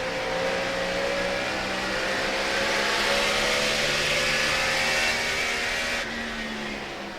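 NASCAR Nextel Cup race cars at the 2007 Subway Fresh Fit 500 roar steadily through a restart in lap traffic, a loud continuous engine drone with layered revving tones and no speech.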